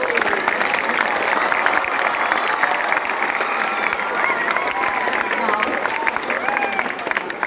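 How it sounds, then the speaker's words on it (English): A hall full of students and staff at a school Children's Day celebration claps steadily and loudly, with scattered cheers and voices mixed into the continuous applause. "give a big round of applause"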